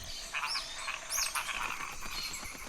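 A reticulated glass frog calls with a few short, high chirping croaks in the first half, heard alone against quiet rainforest ambience.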